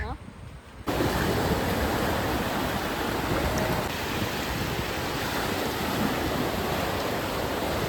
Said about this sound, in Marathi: भयानक लाट आहे पण.